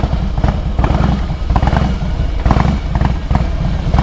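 A 1700 cc Harley-Davidson Heritage motorcycle idles loudly and close, its rear exhaust thumping in a rapid, uneven rhythm throughout.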